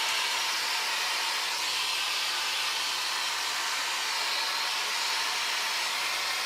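A handheld hair dryer runs steadily on medium speed with no heat, a continuous close airy whoosh with broadband hiss that holds constant throughout, blowing on still-wet curly hair.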